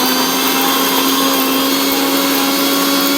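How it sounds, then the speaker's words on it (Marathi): A kitchen mixer grinder whirs loudly and steadily, grinding coconut with soaked Byadgi chillies, coriander seeds, garlic and ginger into a wet masala, running without pause until it cuts off at the end. "धने आणि लसूण, अद्रक हे सगळं मिक्सरमध्ये वाटून घ्यायचं"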